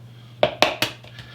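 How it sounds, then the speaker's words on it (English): Three quick cracks of an egg shell tapped against a bowl's edge, close and crisp with short gaps between them, followed by a fainter soft tap. "I crack it nice and gently into a bowl"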